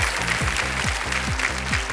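Steady applause from an audience, a dense wash of clapping throughout, with a repeating musical tone sweeping underneath.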